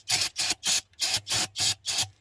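Brake cleaner sprayed from an aerosol can into the carburetor of a 1967 International truck, seven short hissing bursts of even length in a steady rhythm, loud and close with no talk.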